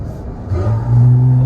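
A Porsche GT4 RS engine revs up briefly, a loud, close rising growl that swells over about a second and holds, with voices over it.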